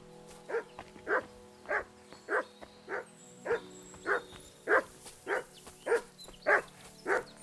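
A dog named Mutt barks in Kingdom Come Deliverance 2, twelve evenly spaced woofs at about one every half second, clear and moderately close over a quiet, steady in-game background.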